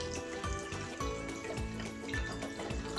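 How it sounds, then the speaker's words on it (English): Vodka pours into a bottle in a soft, continuous trickle with faint irregular gurgles, quiet and close. "And you just pour it into your bottle."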